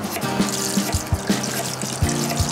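Water poured from a container into an Asian-style marinade with sugar and ginger, a light trickling splash in a kitchen, joined by a few soft knocks and clinks of utensils, close and moderate with no talk.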